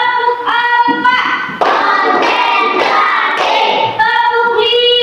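A class joins in a counting clap game, clapping hands together in a steady cluster of claps between stretches of chanted voices.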